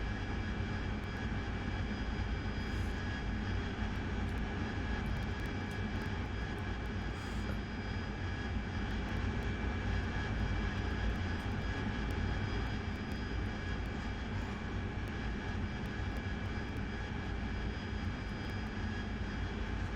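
AV-8B Harrier jet engine during a vertical landing in the DCS video game, a steady, unbroken roar of turbine noise holding at constant level throughout, with no talking.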